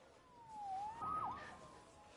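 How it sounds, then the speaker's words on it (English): A police siren in the Marvel's Spider-Man video game gives one faint rising and falling wail, far off and quiet against a low ambient background. "Saved by the siren."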